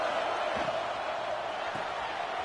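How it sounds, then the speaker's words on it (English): Stadium crowd at a college football game, Penn State against Minnesota, in a video game: a steady, loud, broadband roar that fills the whole stretch with no break, with faint thumps underneath. "Listen to this crowd."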